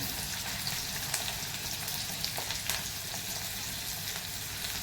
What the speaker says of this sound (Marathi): आणि कांदा असं चांगला आपण परतून घेऊया